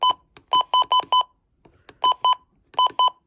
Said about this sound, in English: And here are the valid button beeps.